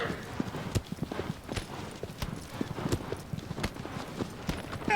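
Horse hooves clip-clopping in Shadow of the Colossus on PS4, a steady run of sharp, close hoof strikes repeating through the whole stretch, with a few faint whinny-like calls mixed in.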